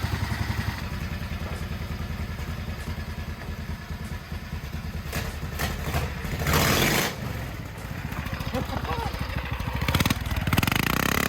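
An 18HP custom drift kart engine runs steadily up close with a buzzing, pulsing drone and some mechanical clatter, briefly surging with a thump in the middle before settling back to its even beat.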